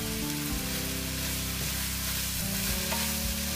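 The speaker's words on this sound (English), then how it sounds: "after you put in your peppers, just give it a stir" Peppers sizzle in a pan for a rice medley while being stirred, giving a steady frying hiss with occasional scraping of the utensil, close and continuous.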